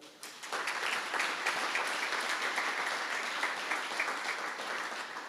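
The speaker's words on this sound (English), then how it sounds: "So please, another round of applause for them." Audience applause at a live community event, a steady dense wash of many hands clapping that swells in quickly and holds at an even level throughout, with no voices over it.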